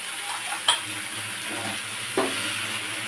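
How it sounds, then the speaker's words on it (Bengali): Drumsticks with mustard-poppy spice paste stirred in a pan alongside fried potato and pointed gourd, a soft steady sizzle broken by two sharp utensil clinks against the pan. "মশলা ধরে জলটা সবটাই দিয়ে দেবো একটু ভালো করে নাড়াচাড়া করে নেব"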